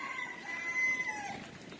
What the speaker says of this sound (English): I thought today I would show you my turkeys